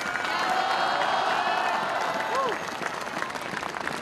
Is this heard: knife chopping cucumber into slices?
no